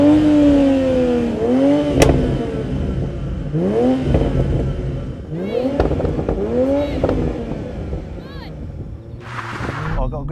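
A BMW Z4 and a Toyota Supra, both with 8-speed automatic gearboxes and launch control, launch in a drag race: loud, close engine revs climb in repeated sweeps broken by quick gear changes.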